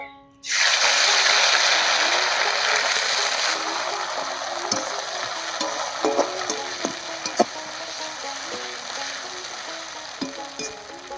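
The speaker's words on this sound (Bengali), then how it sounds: "এবার এই তেলেই অল্প অল্প করে কাঁঠালি বিচিগুলো ভেজে নেব" Jackfruit seeds dropped into hot oil for jhuri bhaja set off a sudden loud sizzle that settles into a steady bubbling fry, with occasional metallic clinks from a spatula.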